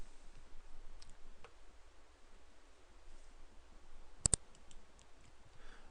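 Computer mouse clicks while selecting and removing items in Malwarebytes: a quick, sharp double click near the end, quiet against a hushed room.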